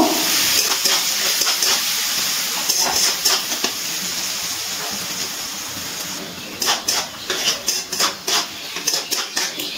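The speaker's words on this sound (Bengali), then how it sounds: "এবার দিয়ে দিচ্ছি একটা বড় সাইজের পেঁয়াজ। পেঁয়াজটা ভালো করে ভেজে নেব।" A large onion frying in a pan for chicken curry with potatoes makes a loud, steady sizzling hiss. Quick rhythmic scraping and clattering strokes of stirring follow near the end, with no voices.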